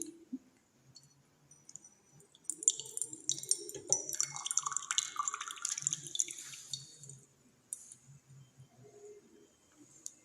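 Water trickling and dripping out of a eureka can as a stone is immersed, a burst of splashy trickling in the middle giving way to scattered drips and quiet clicks.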